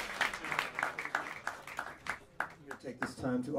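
A small jazz club audience claps for a tenor saxophonist after a live quartet set, with scattered, moderate applause running under a talking voice.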